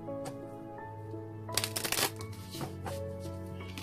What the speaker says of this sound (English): Another shuffle they request.